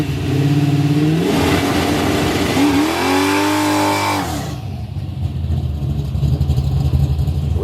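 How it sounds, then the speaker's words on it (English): A Chevy box car riding on 26-inch wheels revs hard for a transbrake launch, its engine climbing, holding a loud strained drone, then dropping off into a rougher idle rumble close by. "gonna try the TRANSBRAKE launch on the wheels"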